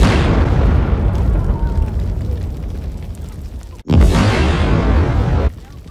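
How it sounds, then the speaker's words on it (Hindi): A pressure cooker on a wood fire bursts with one loud, sharp boom partway through, followed by a noisy rumbling aftermath, with excited voices around it. "कुकर फट गया भाई, इतनी तेज धमाका हुआ"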